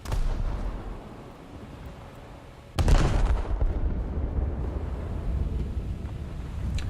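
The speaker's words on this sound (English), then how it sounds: "And I detonated the Kronstadt's front turret." A ship's front turret blows up in a naval battle video game: a sudden loud blast breaks over a steady low rumble, then lingers as a broad roaring tail that holds for several seconds.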